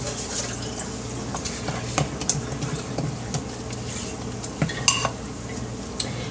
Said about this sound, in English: Give it little stir here.